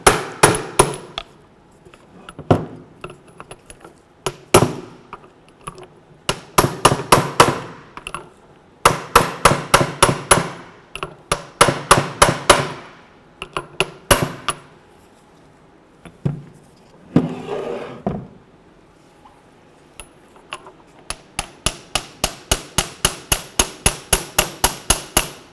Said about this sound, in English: You can use an oversized socket to put over the end here and tap this on.